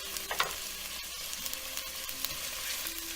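Garlic and onion frying in a pan as the base for a beef and pork ragu, a soft steady sizzle with faint stirring scrapes and small crackles.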